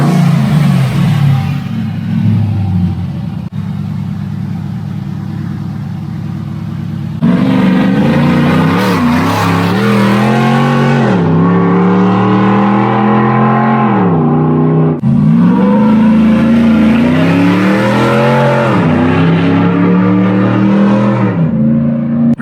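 A modified Jeep JK engine revs hard in repeated blips, each climbing and falling in pitch between steadier idle stretches, loud and close with no voices.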